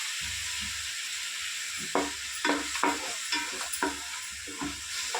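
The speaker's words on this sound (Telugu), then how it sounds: "టమాటా పేస్ట్ కూడా బాగా కలుపుకొని ఫ్రై చేసుకున్నాను" Tomato paste fries in a pan with a quiet sizzle while a spoon stirs it in a series of soft scrapes and taps, fairly faint and close, with no talking.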